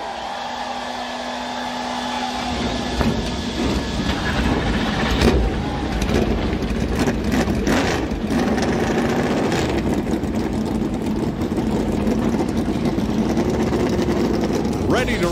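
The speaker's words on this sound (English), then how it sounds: "Drivers, start your engine!" Several stock car engines fire up at once at Martinsville Speedway for the Cook Out 400, a loud, steady massed roar that swells and holds, with crowd noise blended underneath.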